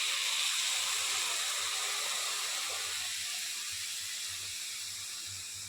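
About one and a half cups of water hit a hot cooking pan with a steady, bright steam hiss that slowly fades over several seconds, with no talk.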